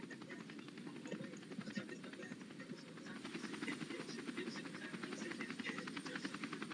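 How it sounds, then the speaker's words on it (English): Steady rotor and engine drone of a helicopter flying near a tornado, sustained and moderately distant, with broadband wind-like rumble and faint voices mixed in throughout. "someone else is in a helicopter!"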